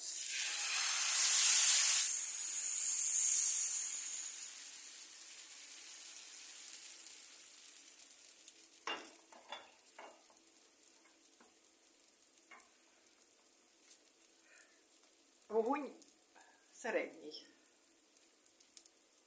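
A loud hiss and sizzle as pancake batter hits a hot, lightly oiled pan, fading after a few seconds, followed by quieter frying with scattered clinks and a voice speaking.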